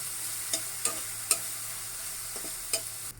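Chopped onion and green chili fried in a pan, a faint continuous sizzle with several brief, evenly spaced spatula scrapes and taps, ending abruptly.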